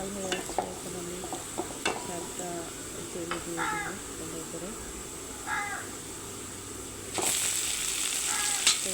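Bouthua greens sizzle steadily in a pan with onion and garlic and are stirred, with scraping clinks now and then. Brief calls or voices sound in the background.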